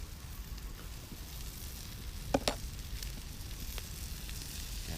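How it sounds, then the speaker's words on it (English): Marinated onions sizzle over hot campfire coals at a bushcraft cookout, a steady soft hiss with a couple of sharp crackles partway through, close and moderately quiet. "Those onions cooking up there."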